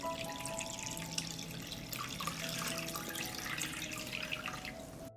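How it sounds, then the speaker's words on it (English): Water poured into a pot lined with a cloth on the bottom, filled up to the height of the jar lids for pasteurizing strawberry jars; a steady, close splashing stream runs throughout with no talking. "I pour water into the pot up to the height of the lid."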